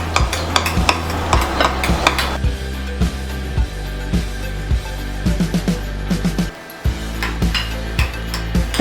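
A utensil presses and mashes cooked butternut squash in a pan, giving repeated soft thuds and scrapes at a steady rhythm over a low continuous hum, close by and without talking.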